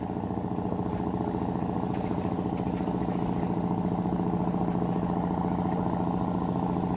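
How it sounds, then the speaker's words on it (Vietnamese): A fishing boat's engine runs steadily at high throttle, a loud, continuous rhythmic chugging clatter heard close by with no talk over it. "Tiếng máy tới đây còn nghe hi hi."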